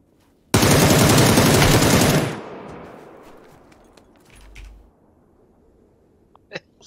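A loud, dense burst of automatic gunfire from the PUBG battle royale game rattles for about two seconds, then decays into a fading rumble, with one sharp distant shot near the end.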